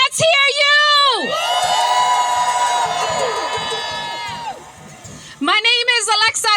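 A crowd at a ceasefire rally in Bryant Park, New York, cheers and whoops for a council member, loud sustained shouting voices that swell and fade, with a speaker's voice at the start and end.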